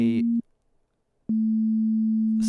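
A steady pure test tone at a low pitch sounds loud and clean, cuts off into near silence for about a second, then returns and holds steady; a brief voice is heard at the very start.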